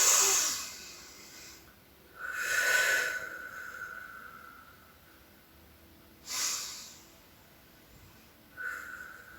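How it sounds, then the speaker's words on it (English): Slow deep breaths during a meditation session, each inhale or exhale a soft airy hiss rising and falling at intervals, three or four breaths heard alone in a quiet room. "Let's have 3 more deep breaths and then you can open your eyes."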